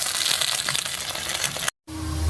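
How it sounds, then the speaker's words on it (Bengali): Pointed gourd fries in a pan with a bright, continuous sizzle and crackle. A short cut of silence breaks it before a quieter hiss comes back. "তো পটলের ভাজা হচ্ছে"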